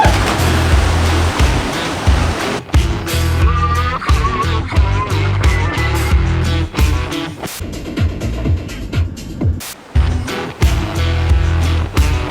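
Water at Sam's Creek Crossing on Cape York, deeper than usual this year: loud, continuous rushing and churning close by with broadband splashy surges and a few sharp knocks, no talk.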